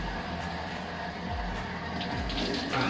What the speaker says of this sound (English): it's time to test out the shower